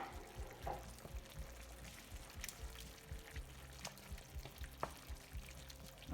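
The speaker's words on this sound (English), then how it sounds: "Give it a good stir." Creme fraiche being stirred into beef stroganoff in a pan, giving a quiet, continuous wet scraping and soft sizzle with small irregular clicks, low in level and without voices.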